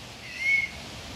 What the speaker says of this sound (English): That is a cool flute whistle.